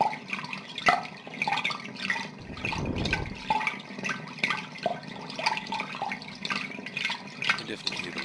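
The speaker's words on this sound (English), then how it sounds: "you can definitely hear the water flowing past." Water flows through an underground sewer main line, a steady wet rushing and trickling with scattered drips echoing in the pipe, fairly faint, with a muffled voice in the background.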